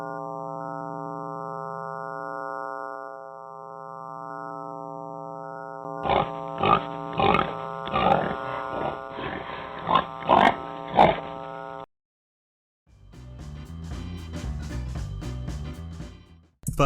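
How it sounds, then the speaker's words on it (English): A played recording meant to resemble a Berkshire boar: a steady droning, harmonic tone gives way to a run of loud, rhythmic bursts of grunting, then a brief silence and a dense rumbling section. "Does it sound like a pig to you?"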